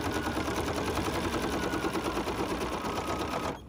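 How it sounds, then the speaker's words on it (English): An embroidery machine stitching an edge-to-edge quilting pattern runs with a steady, rapid needle chatter, close and loud, stopping abruptly near the end. "it's sewing off the edge of this just a little bit"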